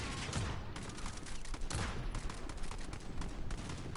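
Gunfire in Call of Duty: Modern Warfare, with dense overlapping bursts and rapid automatic shots that carry on without a break, loud and close in a busy firefight.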